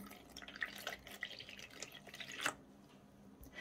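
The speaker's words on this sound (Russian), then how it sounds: "Добавляю 1 стакан воды" Water poured from a glass into a bowl of beaten egg to make batter for eggplant, giving a close, brief run of liquid splashing and dripping with no talking.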